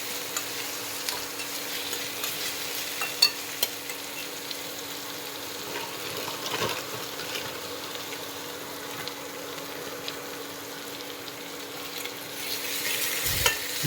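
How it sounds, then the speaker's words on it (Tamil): Vegetables sautéing in a pan for Maggi noodles, a steady soft sizzle with stirring scrapes and occasional clinks, close and continuous with no talking. "நல்லா வதக்குங்க."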